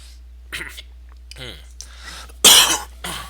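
A close, sharp cough bursts out after a few faint breaths and murmurs, followed by a softer sound.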